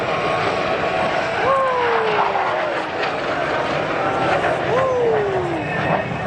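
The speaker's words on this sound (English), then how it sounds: "Thunderbird 5 is approaching upside down in inverted flight" Thunderbirds jets roar past at an air show, flying inverted, a loud continuous jet rumble with two descending whistling engine tones as aircraft sweep by, with crowd voices mixed in.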